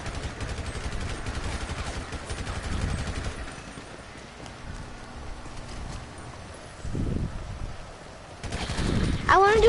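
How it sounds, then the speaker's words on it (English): A carbon rifle fires in a video game in a rapid, continuous stream of shots at close range, with brief bursts and heavier impacts toward the end. "I'm just using the carbon rifle"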